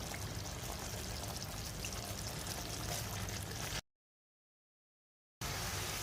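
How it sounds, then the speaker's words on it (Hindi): Strained rice is tipped into a pot of melted sugar for mutanjan, giving a soft continuous pouring, sizzling rush. It breaks off into a short silence, then resumes faintly. "अब इसके अंदर शामिल कर देते हैं चावल जो हमने स्ट्रेन करके रखे हुए थे।"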